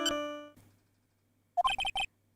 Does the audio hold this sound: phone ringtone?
yes